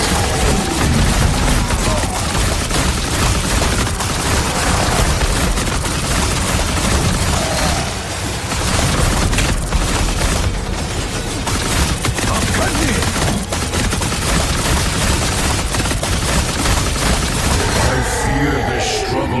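Gunfire and grenade blasts fill a Marvel Rivals zombies battle, loud and continuous, with dense shots and booms packed together.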